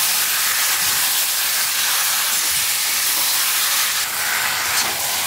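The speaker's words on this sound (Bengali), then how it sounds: "এখন আমি শাক ভালো করে আমি একটু নাড়াচাড়া করি" Greens stirred in hot tempering oil give off a loud, continuous hissing sizzle, close and unbroken, with faint rustling as the leaves are moved around the pan.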